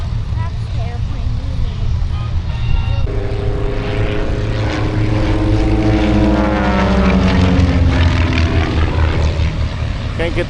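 A propeller warplane, apparently a B-17 bomber, drones past at an outdoor air show, its loud steady engine roar shifting in pitch as it flies by while spectators talk nearby.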